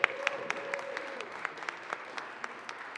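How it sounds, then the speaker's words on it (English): Scattered clapping from a handful of people in the Colorado Senate chamber, faint and sparse, with individual claps spaced irregularly over a quiet room and a brief steady tone early on. "Give her a round of applause for her work on this"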